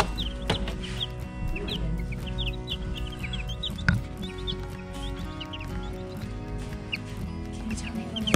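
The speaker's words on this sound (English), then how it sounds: "Let's check on the chickies. They're almost 4 days old." Several four-day-old baby chicks peep in quick, high chirps throughout, close and fairly clear over a low indoor hum, with a brief louder knock midway.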